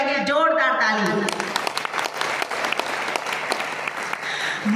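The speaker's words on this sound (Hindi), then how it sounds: "डीएशन के लिए जोरदार ताली।" Loud audience applause fills the room, dense steady clapping from a large crowd that begins as a voice finishes speaking and carries on strongly to the end.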